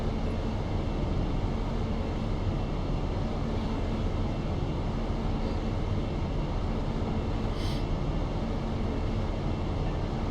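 A steady, full rumble of a train running on the East Coast Main Line between London and Peterborough in Train Simulator, continuous and unchanging with no voices.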